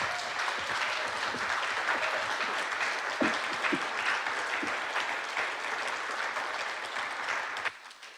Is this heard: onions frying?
no